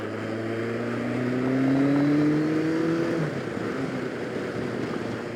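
A heavy liter-class motorcycle pulls away and rides off, its engine note rising through the gears in smooth sweeps before settling into a steady receding drone.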